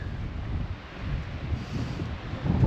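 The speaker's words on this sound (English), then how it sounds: "the wind has really picked up, as you can probably tell" Strong wind buffets the microphone outdoors at Wollaton Hall, Nottingham, in continuous rumbling gusts, rising and falling in loudness, with no voices.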